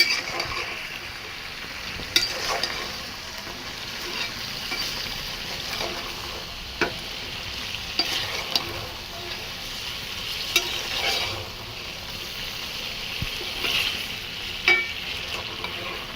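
Beef lung fries in a pan while being stirred, a steady close sizzle broken by occasional scrapes and knocks of the spoon against the pan, with no voices.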